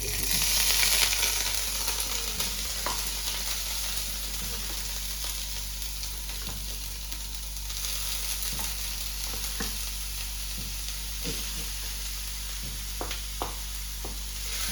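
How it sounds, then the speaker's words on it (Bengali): Grated coconut sizzles in hot ghee for dudh puli, a steady close hiss under a faint low hum, with soft scraping from occasional stirring. "কিছুটা নারকেল কুড়া দিয়ে একটু নাড়াচাড়া করতে"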